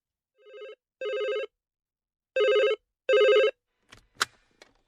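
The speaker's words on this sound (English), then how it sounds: "Silver Tulip Hotel, good afternoon. How can I help you?" A telephone rings in clear bursts, two short rings followed by two longer ones, loud and close with no voices over it, before a few brief clicks and handling noises.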